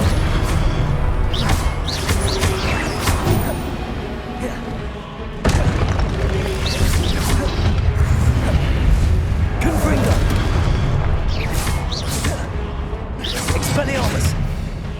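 Confringo fire spell explosions in Hogwarts Legacy (2023), played on PS5: repeated loud booms and blasts burst out every few seconds over a dense bed of battle effects and score, with shouted voices mixed in.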